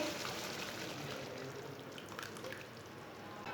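Kidney bean water is poured into a pot of rajma with a steady, faint, hissing splash that runs throughout.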